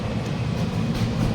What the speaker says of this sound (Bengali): ট্রেন যাচ্ছে পাশের দিকে